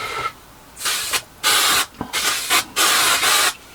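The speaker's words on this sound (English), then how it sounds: "Quick squirt of accelerator." Several quick bursts of CA glue accelerator spray from an aerosol, hissing in short close puffs with brief gaps, during chassis work on a small-shed cyclekart build.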